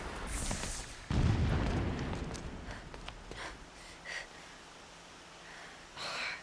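Distant explosions in the video game Horizon Zero Dawn, a heavy booming blast followed by a rumbling decay and a few softer thuds farther off.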